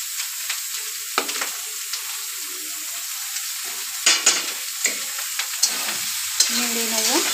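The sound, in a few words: stirring pulao rice in a pan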